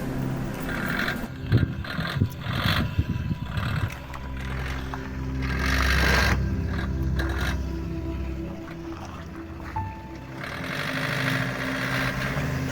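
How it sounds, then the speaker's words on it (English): Diesel car engine running on a high-altitude mountain road near the Gata Loops hairpin bends on the Leh–Manali route, a steady low drone with some rattles and scraping, continuous and fairly close. "The noise of diesel engine is very abnormal in high altitude areas."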